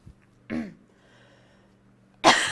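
Two separate coughs close up, a muffled one followed by a quiet pause and then a sharper, louder cough.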